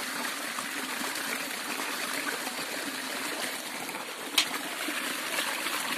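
Agri Humic liquid being poured into a barrel holding about 100 litres of water gives a steady, continuous trickling stream close by, with one brief sharp knock partway through.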